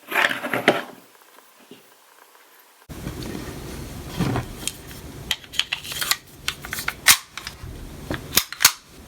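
Several sharp gunshots from a custom Sig Sauer pistol in 22 TCM crack out one after another at uneven intervals, loud and close, over a rough background rumble.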